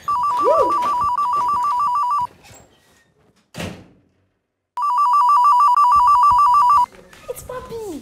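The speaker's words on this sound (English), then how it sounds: "Is that a phone call?" A telephone rings in loud electronic bursts, two long trilling stretches with a pause between them, in a quiet indoor room with a brief thump and faint voices around the rings.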